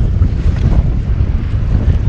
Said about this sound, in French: Bon là, le vent il se lève.